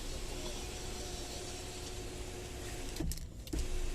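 The sunroof motor of an MG Hector car whirs in a steady, continuous hum, broken near the end by a couple of soft clunks as it stops and restarts.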